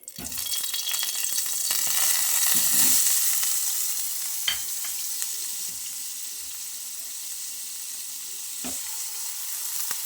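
Paneer cubes fry in a spoonful of ghee in a pan, making a steady, moderate sizzle with occasional stirring clicks and scrapes.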